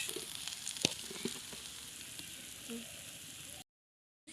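Koi fish pieces frying in oil: a quiet, steady sizzle and crackle with a few small pops and a clink of a utensil, running on evenly before cutting to silence near the end.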